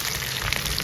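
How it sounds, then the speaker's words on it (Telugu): Mustard-seed tempering with curry leaves, onions and green chilli sizzles in hot oil for a potato curry, a brief, dense crackling hiss at moderate level with no voices. "ఇవన్నీ ఫ్రై అవుతున్నాయి కదా"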